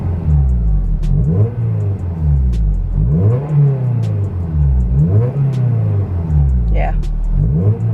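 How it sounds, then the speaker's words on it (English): A Honda S2000 engine rising and falling through a few throttle blips at close range, loud and steady with rough low rumble between revs. "Give it a little bit of rev."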